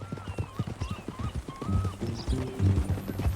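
Horse hooves clip-clop in Red Dead Redemption 2, a steady run of close thuds with light ambient game sound and faint musical tones behind.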